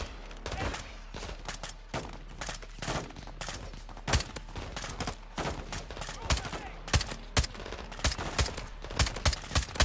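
Dense Call of Duty Modern Warfare II gunfire crackles throughout, with rapid bursts and sharp single shots from several weapons at varying distances, loud and continuous over a low steady rumble.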